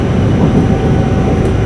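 The Kansai Airport limited express Haruka rumbles along at speed, a loud, steady low roar of running train noise heard from onboard, without voices.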